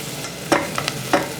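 Onions and garlic fry in oil in a pan, with a soft sizzle under a few sharp scraping stirs of a utensil, heard close.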